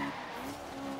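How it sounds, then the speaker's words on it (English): A Fiat Abarth 595 in Forza Horizon 3 skids with a sustained tire squeal over engine drone, brief and fairly loud, with no crash impact clearly standing out. "I hit that car real hard. I tried slowing down."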